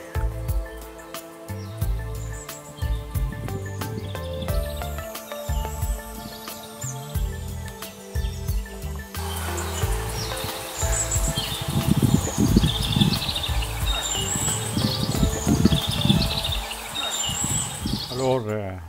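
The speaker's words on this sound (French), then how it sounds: "C'est tous les oiseaux qu'on entend." Birds chirp and trill on a hillside hike near Saint-Guilhem-le-Désert, with scattered high calls that grow busier over time, heard faintly behind voices and nearby rustling.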